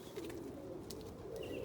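Blue reversing pouter pigeons coo softly inside a kit box in a loft, a low rolling murmur that carries steadily through the moment with faint chirps above it.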